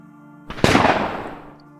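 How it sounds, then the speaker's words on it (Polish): A single suppressed sniper rifle shot lands as one sharp, muffled crack followed by a brief decaying tail, heard alone over a faint steady hum. "Rozległ się cichy strzał wytłumionego karabinu snajperskiego."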